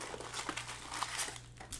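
A Topps Composite trading card pack is torn open in a quick, close crinkling rip that lasts under two seconds, with no talking.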